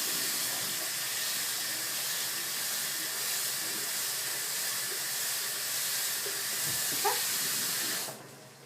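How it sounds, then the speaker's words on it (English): Warm to hot tap water runs steadily into a small bottle as a continuous hissing stream, close and even in level, stopping abruptly near the end. "Then I'm going to go ahead and put in my warm to hot tap water."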